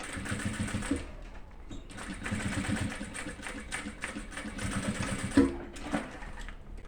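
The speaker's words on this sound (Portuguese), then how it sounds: "Agora, eu vou deitar ele aqui no meio. Abraço aqui e vou passar a costura." Sewing machine stitching a clear plastic necessaire kit, fast close mechanical chatter in bursts with short pauses between runs.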